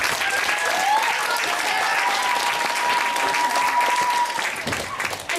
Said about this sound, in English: let's give Zach a big round of applause